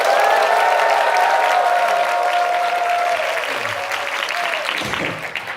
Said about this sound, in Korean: 선창하시면 하면 여러분들은 큰 박수 함성 해주시면 되는데요